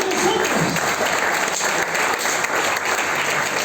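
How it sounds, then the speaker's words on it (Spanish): A church congregation applauds loudly during a Spanish-language sermon, dense steady clapping filling the room, with a faint voice briefly audible at the start. "Denle un fuerte aplauso a la palabra"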